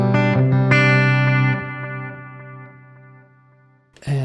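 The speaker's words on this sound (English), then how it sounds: "here's that combined with a tape echo" An electric guitar plays through a Zoom G3X multi-effects pedal set to spring reverb combined with tape echo. A few sustained chords ring out and decay slowly with echoing repeats, and a brief noisy burst comes near the end.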